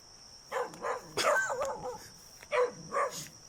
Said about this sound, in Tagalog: Hoy, kilala ko ng aso.